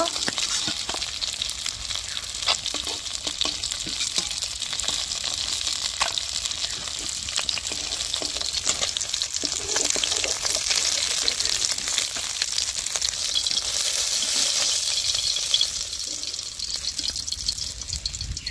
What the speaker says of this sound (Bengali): এদিকে আমার মাছ ভাজা হয়েছে, হালকা করে আমি ভেজে নিচ্ছি।